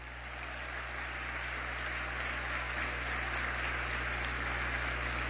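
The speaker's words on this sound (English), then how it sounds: "Give yourself a round of applause." A crowd at a presidential campaign speech applauds continuously, a dense steady patter of clapping that stays even throughout, with a low hum underneath.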